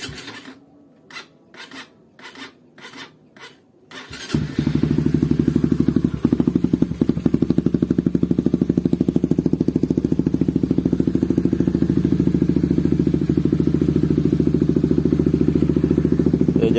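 An open-filter motorcycle engine: a few sharp clicks and taps come first, then it fires and settles into a loud, steady, throbbing idle that runs on without a break.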